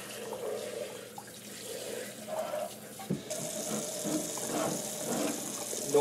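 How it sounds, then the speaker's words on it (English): Cold tap water runs over a raw turkey in a sink, a steady hiss and splash that grows brighter and fuller partway through as the flow strikes the bird, with no talk. "we're just going to run some nice cold water"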